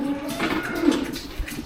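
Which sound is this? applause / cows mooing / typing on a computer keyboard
cows mooing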